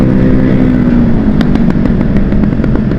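A Yamaha Aerox scooter engine runs loud and close, idling roughly with a steady rumble and a few sharp clattering pops.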